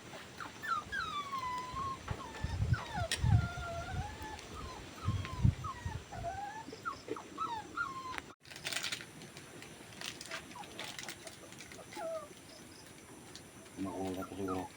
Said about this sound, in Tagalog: Mga bagong tuta. Bagong aso namin. Hinahanap yung kanilang ina, pero nawalay na talaga sila.